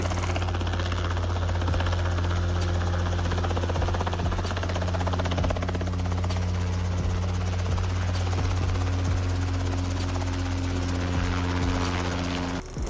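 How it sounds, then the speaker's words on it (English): A Safari ultralight helicopter runs steadily with a loud buzzing engine drone and thudding rotor, close by and continuous throughout. "The Safari helicopter takes you straight to the roots of ultralight flying."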